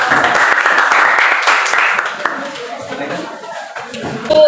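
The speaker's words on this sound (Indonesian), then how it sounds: "Oke, berikan tepuk tangan." Classroom applause after student presentations, a dense patter of clapping from a class that stays loud for about two seconds and then thins out and fades, with scattered voices and a chuckle mixed in.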